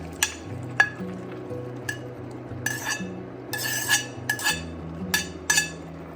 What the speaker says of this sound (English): Continue to stir fry until the beef is completely cooked, about another 3 to 4 minutes